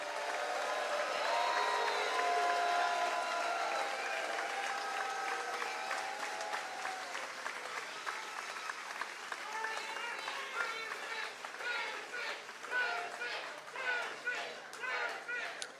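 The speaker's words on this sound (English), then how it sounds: "join me in thanking him and Senator McConnell with a warm round of" A political picnic crowd gives a warm round of applause, sustained clapping with some cheering and scattered voices mixed in, broad and fairly distant, thinning into patchier claps toward the end.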